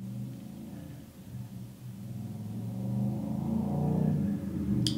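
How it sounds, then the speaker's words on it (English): Steady low traffic rumble from cars on a busy road close by, swelling gradually louder as vehicles pass, with no talking. "I live really close to a road and it's really busy and the cars are so freaking loud around here"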